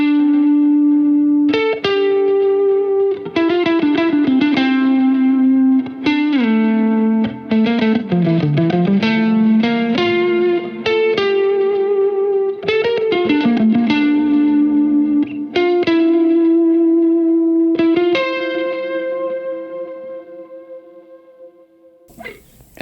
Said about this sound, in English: I decided to play a slow and melancholy solo, focusing a little bit more on the lush bluesy tones rather than guitar pyrotechnics.